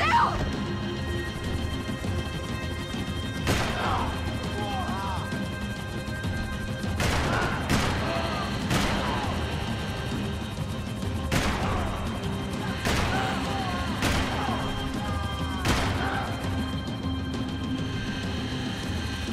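Gunfire in the Max Payne 3 video game, sharp single shots and short volleys cracking every second or two over a steady game backdrop, with faint voices in between.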